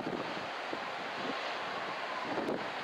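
Ocean surf rolling in at Sendai Shinko beach in Miyagi, Japan, on a day of strong offshore wind: steady broadband wash of breaking waves with gusty wind buffeting the microphone, continuous and fairly close, no talking.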